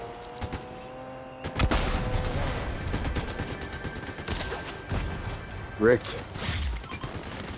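Rapid bursts of gunfire in a Fortnite duo match, sharp broadband cracks scattered through the clip, one louder shot near the end, mixed with game effects and excited talk.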